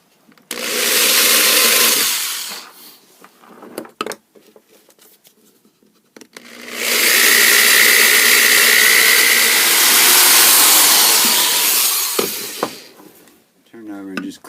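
A power drill whines loudly through a steel saw blade during knife making, in two long bursts, the second steadier and longer, with clicks and handling noise between.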